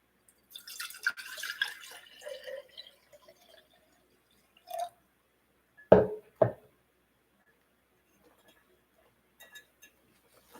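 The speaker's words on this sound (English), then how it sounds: "Put the water in, and that's it." Water poured into a flower vase holding a fresh rose centerpiece, with a few soft trickles early on, then two sharp knocks and splashes midway, followed by quiet.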